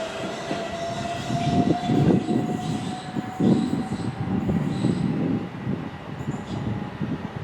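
Train 375918 passing through Ashford International station, a steady rumble of wheels and carriages with a sustained horn-like tone, moderately close, no talk.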